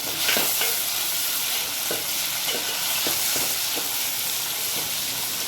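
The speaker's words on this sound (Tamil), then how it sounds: "இப்போ கொஞ்சம் தக்காளி சேர்த்துக்கலாம்." Onions and tomatoes sauté in a pan for fish kuzhambu, giving a steady close sizzle and hiss throughout, with faint periodic scrapes of a spoon stirring the mixture.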